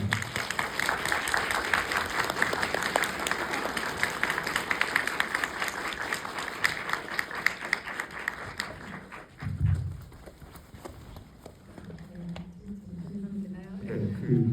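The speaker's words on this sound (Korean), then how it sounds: "박수 부탁드립니다." About 200 audience members at a screening and guest talk for the Stephen King film The Life of Chuck greet a guest with dense, sustained applause for roughly nine seconds. It then dies away as a speaker begins talking.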